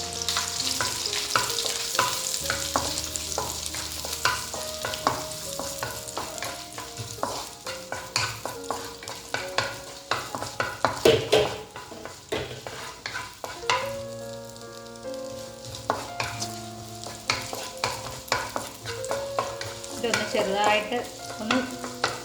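Ginger and garlic frying in a pan for paneer butter masala, a steady sizzle broken by frequent scraping stirs and utensil knocks, close and continuous.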